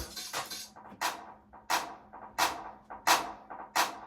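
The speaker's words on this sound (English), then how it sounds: "We've also got a clap." Electronic claps for a happy hardcore track repeat in a loop, sharp snappy hits about every two-thirds of a second with softer ones between, clean and isolated.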